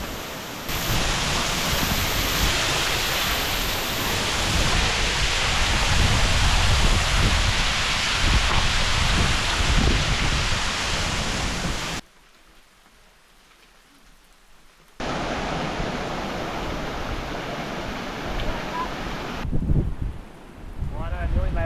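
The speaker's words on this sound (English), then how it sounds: "I'm gonna go walk under this awesome little waterfall." A small waterfall at Springbrook, Queensland, heard up close as a loud, steady roar of splashing water, broken by a sudden quiet gap of a few seconds before the rushing resumes.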